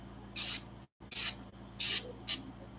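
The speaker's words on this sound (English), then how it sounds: "like these little pulses of paint, because my gun is not spraying very smoothly" A paint spray gun sputtering candy pigment onto a crawfish fishing lure in short hissing pulses, four close bursts with brief gaps between them, one of them cut off abruptly.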